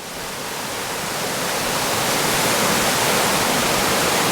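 A seasonal waterfall on Wildcat Creek in the Tilden Park gorge pours into a pool below, a steady broadband rushing roar that swells slightly at the start and then holds constant and close, with no voices.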